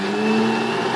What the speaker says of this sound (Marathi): मिक्सरचा आवाज येता